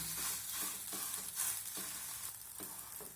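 A paratha frying in oil in a pan, a close hiss and sizzle with rhythmic bursts as it is pressed and moved, quiet overall and without any talking.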